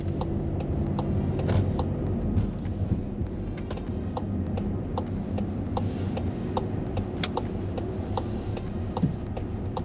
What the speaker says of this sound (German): Mach ich schon an den Blinker.